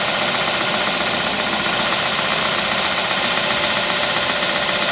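A Porter Cable 8-inch belt sander, Model G8, runs steadily with a loud, dense whirring roar that holds at an even level throughout, with no voices.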